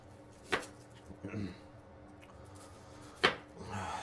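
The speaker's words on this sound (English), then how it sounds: "we're just going to cut our onions up, peel them real quick, and then we'll chop them up" Onions being chopped with a knife on a board while making Japanese cheesy rice doria, two sharp knife strikes standing out over quiet kitchen background, with a few softer scraping and handling sounds between them.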